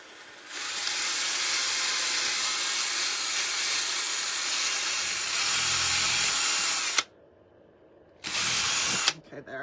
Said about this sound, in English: I wasn't drilling properly. I was kind of at an angle, so I had to readjust.